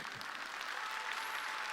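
A church congregation applauding during a Sunday worship service, a steady wash of many hands clapping at moderate distance, sustained evenly without a break.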